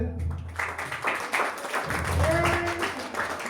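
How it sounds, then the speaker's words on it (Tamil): An audience applauds a child singer at a music competition stage event, a moderate patter of many clapping hands rising and falling over a few seconds, with a voice talking over it. "ஸோ ஒரு பெரிய கைத்தட்டல்"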